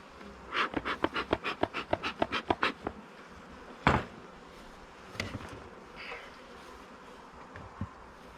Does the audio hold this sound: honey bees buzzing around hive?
yes